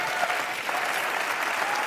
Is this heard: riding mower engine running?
no